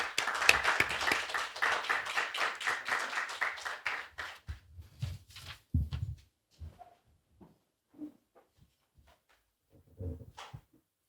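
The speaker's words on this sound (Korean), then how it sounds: "큰 박수로 모시죠." Audience clapping to welcome a professor to the podium at a Korean academy lecture on nanotechnology and drug discovery, a burst of claps for about five seconds that thins into scattered taps, shuffling and thumps as the room settles.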